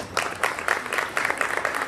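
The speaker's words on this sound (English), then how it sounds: "So if we could give all the band and choir students a round of applause." Band and choir students receive a short burst of audience applause at a junior high honors program, brisk crowd clapping that rises and holds for a couple of seconds.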